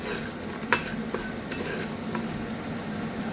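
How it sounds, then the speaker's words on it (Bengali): Lentil dumplings (bori) frying in oil in a wok, a continuous close sizzle with light stirring scrapes and occasional spoon clinks. "বড়িগুলো খুব কড়া করে ভাজবো না"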